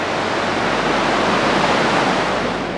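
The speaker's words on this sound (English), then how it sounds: "Look at this river flowing, the Colorado River." Colorado River flowing through Marble Canyon near the Grand Canyon, a steady, loud broadband rush of moving water that holds constant from start to finish with no voices.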